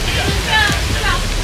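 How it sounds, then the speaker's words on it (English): Water crashes and sprays from a boat splashdown on the Jurassic Park ride, a loud, broad rushing wash that swells midway and keeps roaring as voices call out over it. "check out the splash"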